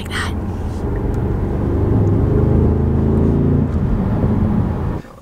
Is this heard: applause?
no